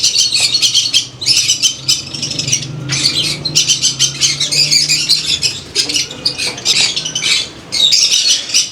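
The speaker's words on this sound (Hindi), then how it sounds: "ये खूबसूरत रंग बिरंगे तोते और इनके लिए बनाया गया ये ख़ास शेड" Colorful parrots in a rooftop shed on a home-based parrot farm in Faisalabad squawk in a loud, dense chorus of overlapping shrill calls. The calls continue without break, close by, with no talking.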